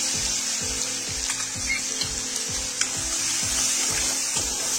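Ground chutney frying in hot oil with mustard seeds and cumin for bread pakoda, a steady close sizzle and crackle with rhythmic scraping of a spoon stirring in the pan.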